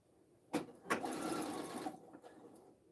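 A sewing machine stitches fabric for a bubble-hem dress in a short burst of about a second and a half, starting with a couple of sharp clicks and trailing off into light mechanical taps, close and clear.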